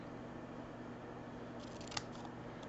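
Scissors make one crisp snip through paper while cutting a paper snowflake, faint against quiet room hum with no talking.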